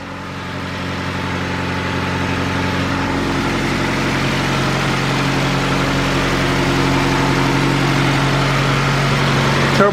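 A turbocharged Honda Civic engine idles steadily at its first start-up, a loud, continuous rumble with a low drone and faint whine that rises slightly in level and holds evenly throughout, with no talking.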